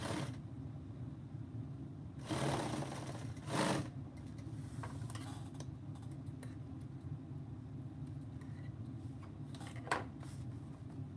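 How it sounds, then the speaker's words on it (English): A sewing machine stitches in steady runs, with a continuous mechanical whir and short louder bursts around the middle, recorded close and without talk. "Brian, what am I sewing?"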